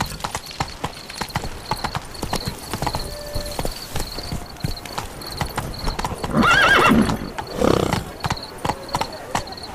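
Hooves clip-clop rhythmically as a horse gallops in The Witcher 3, with a loud neigh midway; someone speaks briefly over the game's steady hoofbeats.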